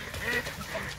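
A duck, one of the ducks caught in a Vietnamese village, gives a couple of short nasal quacks at moderate distance over outdoor background noise.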